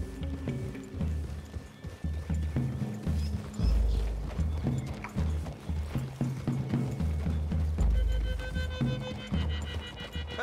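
Horses ride through trees in Red Dead Redemption 2, their hooves clip-clopping in an uneven, rolling rhythm close by, with low thuds and game ambience underneath.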